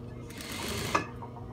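A sewing machine stitches a dress shoulder seam in one short close burst of rapid mechanical whirring with a faint click near the end.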